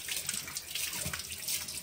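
Running tap water splashes steadily as hands are washed in a sink, a continuous close hiss with no voices.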